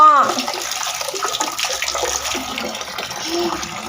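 Water runs steadily from a tap, splashing nearby, while voices talk briefly over it.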